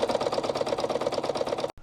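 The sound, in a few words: Goodwill sewing machine stitching curtains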